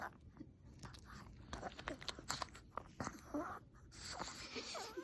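Dog crunching and chewing a cookie, close-up, with a busy run of irregular bites and crunches over about five seconds, fairly faint with a little background noise and no clear talk.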